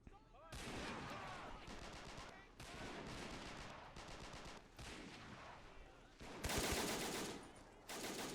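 Sustained bursts of Vickers machine gun fire from the Men of War: Assault Squad game, in an Arnhem-style Market Garden battle, rattling loudly in several long volleys with brief gaps between them, with artillery-like blasts mixed in.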